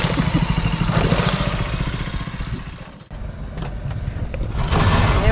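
A boat engine drones loudly nearby in Cần Thơ, Vietnam, a rough low rumble that dips briefly then surges back, with no talking.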